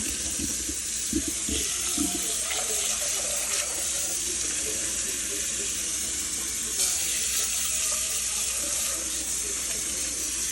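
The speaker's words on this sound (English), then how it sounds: "we are just going to rinse them off in some cold water to shock them to stop them from cooking" Cold tap water runs steadily over cooked al dente macaroni in a kitchen sink, making a continuous close rushing splash that fills the whole stretch without a break.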